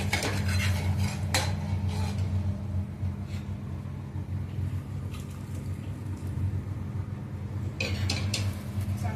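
A spoon scrapes and clinks against a metal pot of mutton curry in a few separate bursts, over a low steady hum from a nearby stove or fan.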